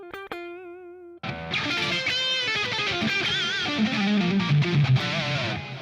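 Electric guitar played through a PolyChrome DSP pedal with the effect switched off: a few ringing picked notes, then a loud, dense, driven strummed passage that carries on alone without any voice.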